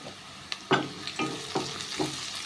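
Curry leaves and a pinch of turmeric fry in oil, with soft sizzling and a series of four or five scraping stirs at a regular pace, close but fairly quiet.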